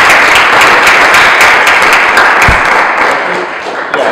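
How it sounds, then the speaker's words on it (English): An audience at a talk session applauds the guests, a loud dense burst of clapping from many hands that holds steady, then thins and fades toward the end. "I think that's an applause for our guests"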